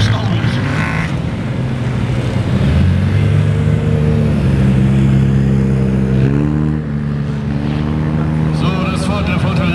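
A race car at a 24-hour race on a dusty track drones loudly and continuously nearby, its engine pitch rising and shifting as it accelerates, with someone talking over it.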